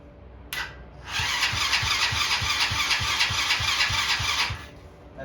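A Chinese Tao Tao engine cranks over on its starter, pumping compression in a steady run of about a dozen low thumps under a whirring hiss, then falls quiet.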